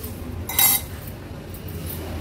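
A spoon clinks against a pot once while cooked moong dal is stirred, a short bright metallic knock over a quiet, low room background.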